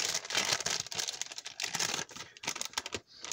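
Crisp snipping and crinkling of a plastic MRE food pouch being cut open with scissors, a run of sharp close-up cuts and rustles with brief pauses.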